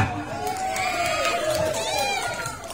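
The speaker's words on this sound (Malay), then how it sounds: "Penonton berikan semangat." An audience cheers and whoops at a school quiz competition in a dayah hall, a loud crowd roar with shouts and children's voices filling the whole stretch.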